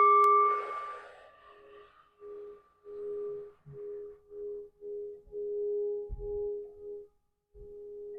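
A sound bowl struck once, ringing with a bright sustained tone that slowly fades, followed by a series of softer, evenly spaced pulsing tones; no speech.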